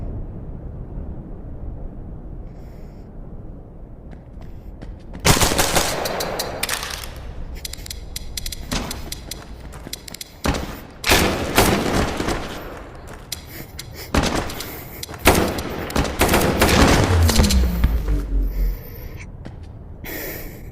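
Gunfire and room-clearing action in the VR shooter Tactical Assault VR, loud irregular shots and impacts that come and go over a low background, with bursts grouped in the second half.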